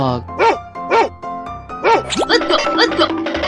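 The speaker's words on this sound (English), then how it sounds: "Dog." A dog in a 3D animal slide video game gives several evenly spaced barks up close, followed by a rising whine and a busier burst of mixed game sounds and a bright jingle.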